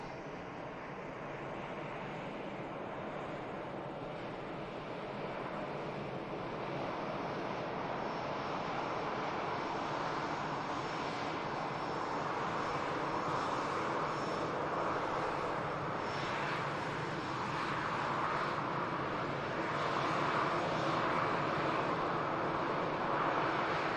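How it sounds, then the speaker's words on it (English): A Scandinavian Airlines A320neo taxis out at Manchester Airport bound for Stockholm, its jet engines giving a continuous broad rumble and hiss at moderate distance that swells gradually over the span, with no voices. "Also on the taxi out, Scandinavian Neo heading back to Stockholm."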